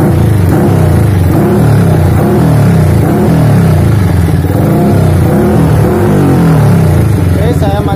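A Yamaha Vixion motorcycle with a modified carburetor and abnormal ignition revs loud and close, its engine note rough and uneven as it rises and falls in repeated throttle blips, with voices talking over it.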